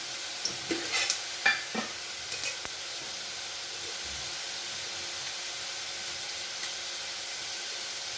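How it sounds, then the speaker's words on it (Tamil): Mustard seeds and urad dal sizzle in hot oil for a Tamil home-cooked dish, a soft, steady frying hiss with a few faint pops and crackles early on. "எண்ணெய் விட்டுட்டு கடுகு போடுவோம் கொஞ்சம் உளுத்தம்பருப்பு போடலாம்"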